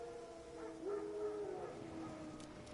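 Wild dogs howl in the Witcher 3 video game, a faint drawn-out howl rising and falling over quiet ambient background, distant and alone.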